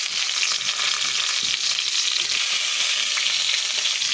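Garlic browned in a pan with onion then added, frying in a steady, loud, close sizzle with faint stirring clicks throughout, no voices.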